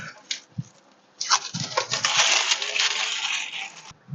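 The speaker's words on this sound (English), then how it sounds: "Let me unwrap and see if our project came out" Wrapping being peeled off freshly painted brake calipers from a Suzuki Grand Vitara: a few soft crinkles, then a sustained close crackling and rustling of paper or plastic for several seconds.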